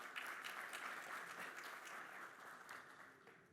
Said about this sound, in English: Please, a round of applause for everyone.